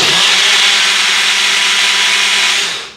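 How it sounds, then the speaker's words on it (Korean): A loud, steady high-pitched grinding whir from a blender mixing yogurt and egg, running continuously for a few seconds, then starting to wind down at the end. "믹서기에 갈도록 하겠습니다."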